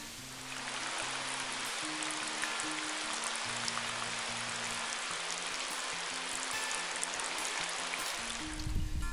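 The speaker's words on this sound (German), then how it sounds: "solange es jetzt so stark regnet" Dense, steady rain hisses without pause, a heavy downpour in a forest pattering on surfaces close by, with a faint low tonal hum underneath.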